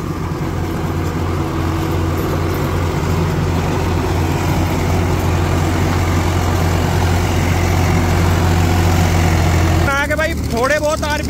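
Swaraj 742 XT tractor pulling an 8-foot rotavator through a mix of tilled and untilled field, its engine a steady loud low drone under continuous load, with a brief burst of high chirping or squealing near the end.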